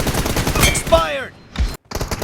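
Gunfire from the battle game PUBG: a burst of sharp, loud shots at the start, a brief lull, then a few more close reports toward the end, with an in-game voice line heard in between.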